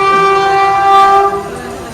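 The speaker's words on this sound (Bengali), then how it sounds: "ট্রেন আসছে রে" A train approaches and passes close by near a village, its loud sustained horn blaring steadily over the rumble of rail cars for nearly two seconds.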